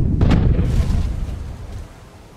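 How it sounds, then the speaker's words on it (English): A ship's cannons fire in the pirate video game Tortuga A Pirate's Tale, sounding as a loud booming blast up front that rolls away into a long fading rumble, with no voices. "fire the cannons!"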